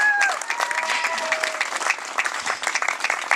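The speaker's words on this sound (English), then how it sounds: "So let's give Arnie another round of applause." Audience applause in a zoo exhibit crowd for volunteer Arnie, steady clapping from many hands that stays even for a few seconds, with a brief whistle at the start.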